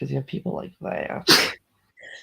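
A single sharp sneeze bursts out at close range right after a stretch of conversational speech, followed by a brief pause and a faint voice.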